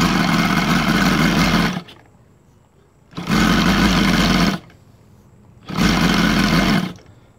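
An OS Sirius 7 radial model engine converted to run on gasoline roars in three loud, close bursts of a couple of seconds each, separated by short near-silent gaps.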